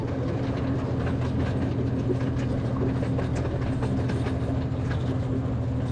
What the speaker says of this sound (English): We are riding the train, baby.